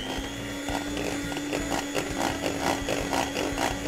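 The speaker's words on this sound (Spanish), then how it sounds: "Tengo nata para montar o crema de leche. La vamos a batir casi hasta el punto de la chantilly." Cream for whipping is beaten almost to chantilly consistency for a Ferrero Rocher cake, an electric mixer whirring with a steady high whine and rhythmic pulsing, loud and close throughout.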